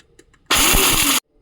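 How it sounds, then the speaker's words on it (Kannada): A mixer grinder pulses once on peanuts for a coarse grind, giving a single loud whirring burst of under a second that starts and stops abruptly. "ಕಡಲೆ ಬೀಜನ ಹಾಗೆ ಪಲ್ಸ್ ಮೋಡಲ್ಲಿ ತರಿಯಾಗಿ ಮಾಡ್ಕೊಳ್ಳೋಣ"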